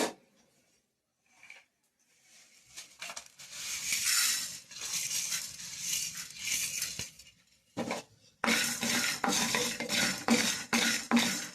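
Coriander seeds being lightly dry-roasted and stirred in a pan for an eggplant fry, producing a close, continuous rattling scrape after a quiet start, briefly pausing before a louder burst of stirring.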